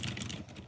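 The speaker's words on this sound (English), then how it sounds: "This is a mechanical keyboard." Quick typing on a LexonElec mechanical keyboard: a short burst of sharp, close clicky keystrokes, several in rapid succession, with no talk.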